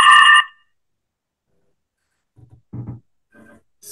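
A phone ringtone sounds briefly at the start during an online medical interview. It is a short, loud, tonal electronic burst, followed by silence and faint scattered sounds.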